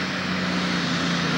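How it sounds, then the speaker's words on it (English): A John Deere 3150 tractor pulling on the track at a 1995 Kentucky tractor pull, its loud, steady engine roar droning close and alone without a break. "3150 John Deere tractor."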